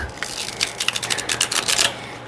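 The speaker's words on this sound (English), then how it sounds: "Just testing if I can shuffle it." A tarot card deck with thin cardstock is shuffled near the mic, giving a steady run of crisp riffling card flicks over about two seconds without any talk.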